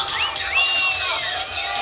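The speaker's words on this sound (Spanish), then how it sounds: "pues ahora con un fuerte grito de todos las despedimos" A lively crowd at a tuning expo show shouts, whistles and cheers together, loud and close, with whoops rising over the din.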